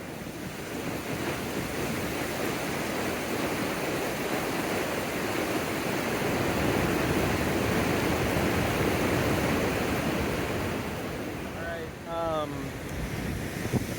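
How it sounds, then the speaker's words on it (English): A steady roar of rushing water fills the whole clip, loud and continuous from the nearby Cascada del Fuego waterfall near Baños, Ecuador, with some wind buffeting the microphone. "That's the Cascada del Fuego. Fire waterfall."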